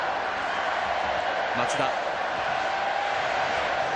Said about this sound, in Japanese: またこの歓声でもお分かりの通り完全にアウェーらしい環境になってきました